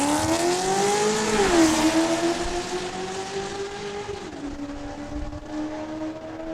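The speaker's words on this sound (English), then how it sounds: "Jasmine Stinson behind the wheel of Dodge Durango" Dodge Durango and a Corvette launching down the drag strip at Saskatchewan International Raceway, engines droning loud and close with pitch rising through gear changes, then fading as the cars pull away.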